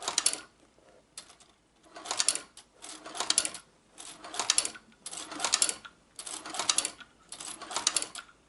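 A shoe patcher sewing machine stitches Vans sneakers in close, rhythmic bursts, each run of rapid mechanical clatter stopping briefly before the next, about seven runs in a row.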